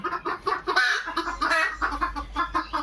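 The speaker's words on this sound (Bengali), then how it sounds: "মুরগিও আছে" Chickens clucking close by in a rural Bengali household, a steady run of short rhythmic clucks with no speech over them.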